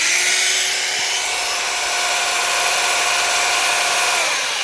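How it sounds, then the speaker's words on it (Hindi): An Ingco 800W electric drill bores into stone with a steady, loud, continuous whine that holds level throughout, with no talk over it. "इसके अंदर मैं अब सुराख कर रहा हूँ।"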